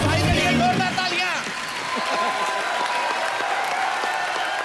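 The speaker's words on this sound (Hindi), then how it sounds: "मेरे भाई के लिए जोरदार तालियां।" On The Kapil Sharma Show, the studio audience breaks into loud, sustained applause with some cheering. A voice speaks over the start, and steady clapping carries through to the end.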